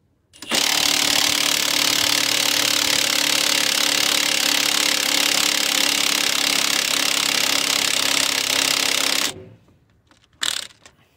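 An impact wrench spins the shock absorber nut on a 2003–2008 Toyota Corolla Matrix without gripping, giving a loud, steady rattling whir that runs for about nine seconds, cuts off, and is followed by one brief burst.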